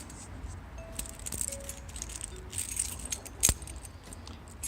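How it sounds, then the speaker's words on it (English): A bunch of keys jangles and clinks as it is pulled out, with light metallic rattles scattered throughout and one sharper clink near the end, close by and fairly quiet, with no voices. "And time to get the keys out."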